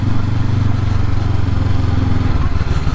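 A Honda CB500X motorcycle rides along gravel roads, its engine a loud, steady mid-pitched rumble with a rough, pulsing texture throughout.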